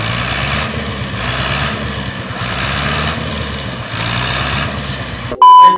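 A 640 tractor's engine drones steadily and loudly at close range while it strains to pull another tractor stuck with its tyres half sunk in mud, ending in a brief sharp noise.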